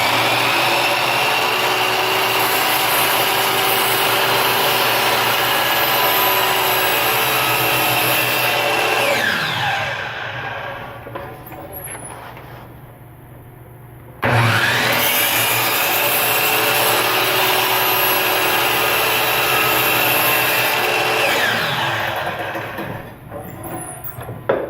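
Plywood being mitered with a power saw: two loud, close cuts of steady, grinding whine, separated by a short drop as the blade spins down before the second pass starts, with no talking.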